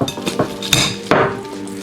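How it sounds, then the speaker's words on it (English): Cooked sweet potatoes pushed through a metal sieve, a short run of scraping, clinking strokes of a utensil against the mesh and bowl, close and fairly loud with no talking. "we're gonna take our sweet potatoes and we're gonna put them through the sieve"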